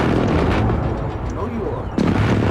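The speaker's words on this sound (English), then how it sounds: "Enemy precision airstrike. Take cover." Enemy precision airstrike explosions rumble through a video game, with heavy continuous booming and a fresh blast near the end, while voices talk over the noise.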